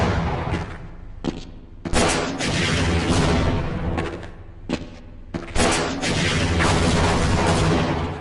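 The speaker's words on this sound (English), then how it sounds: "Here's what this tank fight looked like in Half-Life 1." Tank fight in the video game Half-Life 1: loud bursts of gunfire and booming explosions come in rapid clusters, broken by a few brief pauses, with no talking.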